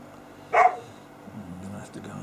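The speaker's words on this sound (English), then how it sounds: "that's our dogs out in the garden complaining because I'm not paying them any attention." Dogs out in a garden give a single sharp bark at a distance, followed by faint whining and yips, with a person talking close by over the top.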